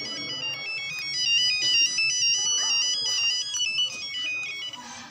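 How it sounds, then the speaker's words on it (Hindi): A mobile phone ringtone plays a high, looping melody at a karate academy belt promotion test in Lahore, continuing steadily over faint background room noise. "फोन आ रहा है"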